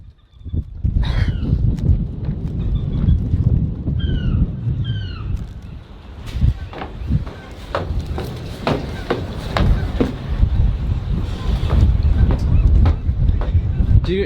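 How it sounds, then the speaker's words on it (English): Strong wind buffets a microphone outdoors in Washington, a constant low rumbling roar with gusty surges, while someone talks intermittently and a few bird chirps break through. "Dude, it is windy today."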